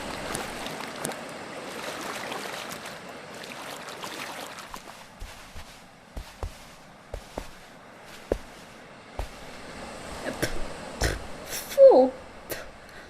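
Swimming in salty sea water, with soft sloshing and splashing strokes in an irregular rhythm close by, ending in a louder burst of splashing.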